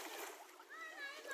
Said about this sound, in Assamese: এতিয়া আমি মালা ধুইবম নদীত ধুই পেলাই আমি মালাটো ঘৰত লৈ যাম